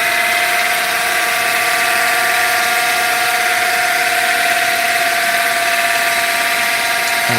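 A wood lathe spins a waxed pen blank at high speed in a pen-turning workshop, producing a loud, continuous whirring motor drone with a steady tone.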